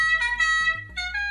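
Ordinary horn effect from a Beier SFR-1 sound module, a fairly weak, buzzy electronic honk that blares in three short pulses with brief gaps, close and clean.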